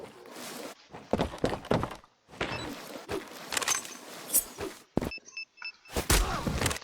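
Bomb planting in the competitive shooter Zula: a series of thuds, clicks and gear shuffles, followed by short repeating electronic beeps from the planted device, with brief bursts of game sound in between.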